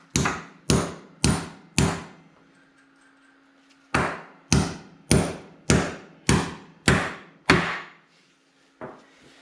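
Concrete anchors are hammered into a shop floor for a hoist installation, sharp ringing metal blows in two runs of evenly spaced strikes, close and loud, then a last single hit.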